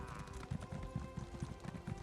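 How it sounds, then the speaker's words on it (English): Hooves of a sorrel horse clip-clop at a steady trotting rhythm in The Elder Scrolls Online, close and even, with game ambience underneath. "I'm still gonna use the default horse, the Sorrel horse"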